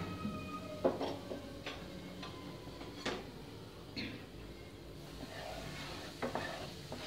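Turmeric powder is stirred into hot oil in a pan. A quiet sizzle runs underneath as a spoon clicks and taps against the pan several times at irregular intervals.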